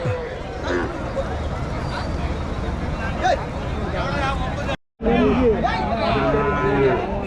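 Native cattle lowing at a rural cattle market in Madrapalli, deep moos rising out of a busy outdoor din with people talking nearby throughout, briefly interrupted by a cut before the noise resumes.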